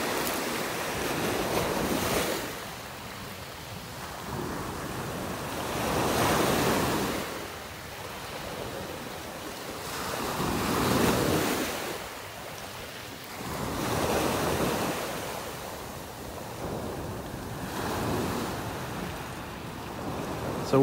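Ocean surf at Wiggins Pass in North Naples, Florida, with waves breaking and washing up the beach in slow swells every few seconds, close and steady under gusty wind noise, with no talking.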